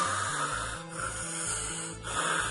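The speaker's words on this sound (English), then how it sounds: "the sound he makes is the last sound you hear before you die" Creepy mechanical breathing of the villain Cicada from The Flash TV show, a raspy, rhythmic inhale-exhale with a low pulsing rumble, repeating steadily and close, alone without talk.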